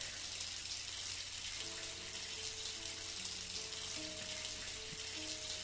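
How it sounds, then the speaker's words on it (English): Steady broadband hiss of a shower running in a video game bathroom, constant and fairly loud throughout, with faint tonal background music layered underneath and no talking. "I go to the bathroom to take a nice shower."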